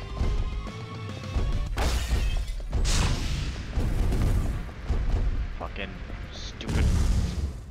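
Rockets explode in the top-down action game Mr. Shifty, a run of loud, heavy booms and crashes landing every second or so with debris clatter, and a voice reacting at times.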